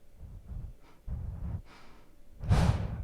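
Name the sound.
deep diaphragm breath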